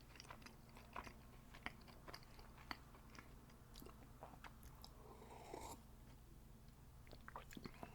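Store-bought butter tarts in frozen pastry shells being eaten up close, with soft, crunchy bites and steady wet chewing in an irregular rhythm, with faint whispery breath between mouthfuls.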